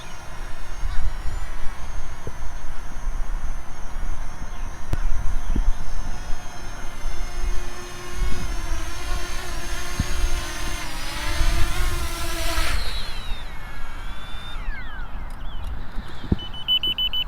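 A Fimi Mini Pro drone hums steadily with a high whine as it flies back toward its landing pad, the rotor tone rising and then cutting off as it settles, with scattered handling noises nearby.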